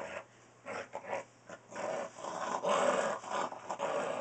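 A dog growls in bursts while attacking a toy cow, the rumbling grr rising and falling in uneven pulses at close range with no talking.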